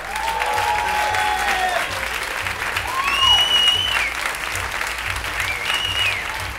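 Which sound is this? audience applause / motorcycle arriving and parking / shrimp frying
audience applause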